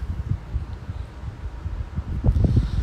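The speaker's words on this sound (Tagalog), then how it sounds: "Actually, sobrang lakas ng hangin." Strong wind buffets the microphone with low, rumbling gusts that grow heavier toward the end; no voices.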